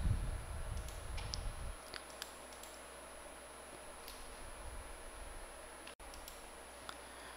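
A computer mouse clicks a confirm button in accounting software: several faint, sharp, close clicks scattered over a quiet background after a brief low rumble at the start.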